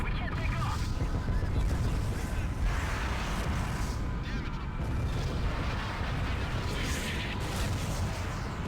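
In the Ace Combat Zero air-combat game, an anti-aircraft gun is destroyed by an explosion. Dense, sustained booming and gunfire-like rumble fills the scene, with faint voices mixed underneath.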